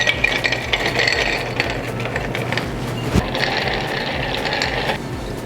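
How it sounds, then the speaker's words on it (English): A coffee chocolate liqueur cocktail with simple syrup and Angostura bitters stirred in a mixing glass: continuous clinking and rattling of ice and spoon, close and fairly loud, with no talking. "And then we'll stir."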